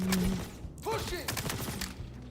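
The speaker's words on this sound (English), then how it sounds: "An absolute little menace of a turret." A turret in the space game Star Citizen fires at a ship, a rapid burst of gunfire close by that overlaps with someone speaking.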